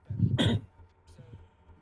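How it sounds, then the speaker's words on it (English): A single cough or throat-clear bursts out near, loud and brief, during a live tabletop roleplaying game session, followed by quieter murmuring and faint voices. "I keep coughing."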